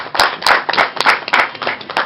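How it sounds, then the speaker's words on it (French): A crowd applauds with brisk, steady clapping that fills the space, loud and close, with no talk over it, at a celebration of deities in the Folly Gbogbo sacred forest. "Applaudissez-le."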